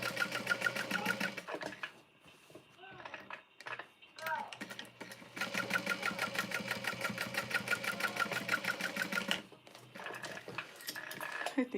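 A sewing machine runs in close, rhythmic bursts while sewing down either side of a center line, pausing briefly between runs, with occasional speech and handling sounds.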